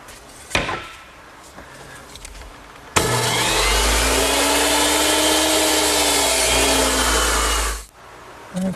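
A saw makes one sustained, loud cut through the end of a wooden rail for a Shaker two-drawer blanket chest. The cut runs about five seconds with quieter workshop knocks before and after.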